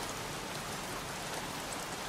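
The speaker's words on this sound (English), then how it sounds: "won't this rain ever let up?" Steady, dense rain falling in the video game Heavy Rain, a constant hiss of heavy downpour with no breaks and no voices.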